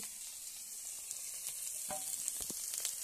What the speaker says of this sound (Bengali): এখানে কড়াইতে বন্ধুরা বেগুনটা আগে ভেজে নিচ্ছি তেল দিয়ে